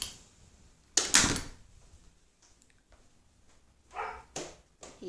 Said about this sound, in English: You hear him barking in the background.